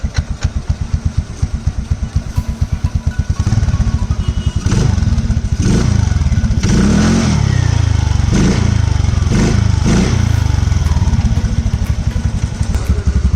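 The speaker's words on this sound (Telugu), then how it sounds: "సో బండిది ఇప్పుడే ఎయిర్ ఫిల్టర్ వీకినాం, సౌండ్ ఎట్లా వస్తుంది చెప్పడానికి" A 125cc TVS Ntorq scooter with its air filter removed idles with a rapid, lumpy putter, then is revved repeatedly in loud surges that rise and fall, close to the listener, with no one talking.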